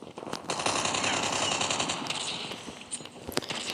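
A submachine gun fires in rapid sustained bursts during a Call of Duty match, with sharp crackling reports and a few louder isolated shots near the end.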